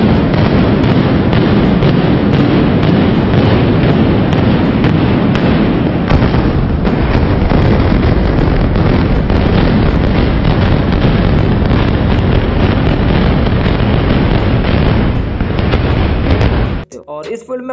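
A building is brought down by bomb blasts in a demolition, a continuous, very loud roar of explosions and rumbling debris that fills the whole stretch before cutting off abruptly near the end.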